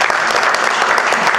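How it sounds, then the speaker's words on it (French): A church audience at a mourning-period memorial service in Saint-Etienne, France, claps together in a dense, loud, continuous burst of applause. "Est-ce qu'on peut acclamer pour la parole de Dieu?"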